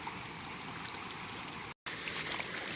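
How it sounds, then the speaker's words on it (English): A waterfall in the woods, a steady broadband rush of falling water heard at moderate distance, continuous and unbroken apart from a brief dropout, with no voices. "See the waterfall."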